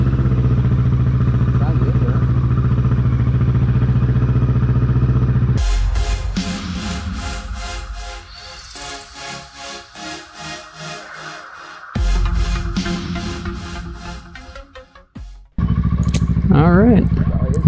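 A 2020 Kawasaki Ninja 650 engine runs loud and steady while riding, then becomes choppy and broken with wind buffeting and clatter, before returning to a strong drone near the end.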